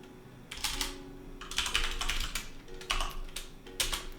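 Keys clatter on a computer keyboard in four short bursts of rapid typing, close and fairly clear, with brief pauses between them while code is entered in Unreal Engine.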